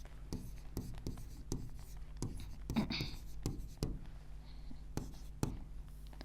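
Equations being written on a board during a mechanics lecture, a steady run of sharp taps and scratchy strokes at an uneven pace, close and faint, with a voice speaking in between.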